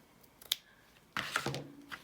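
Fabric scissors cutting fabric for a journal topper, a sharp snip followed by a longer rasping cut and a softer closing, close and fairly quiet.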